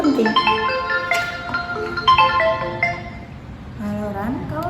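In an office setting, a telephone ringtone plays a short looping electronic melody at moderate volume, partly overlapped by a voice and background room noise.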